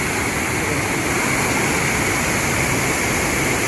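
Loud, steady roar of rushing water pouring out of Satiguda Dam near Jeypore, broadband and continuous throughout, like a gushing torrent.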